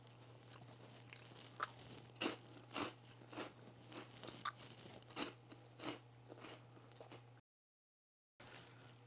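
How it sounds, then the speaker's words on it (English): A crunchy snack is eaten close up in a quiet office, with irregular crisp bites and chewing crunches over a steady low hum, then a brief gap of silence. "I'm allowed to snack."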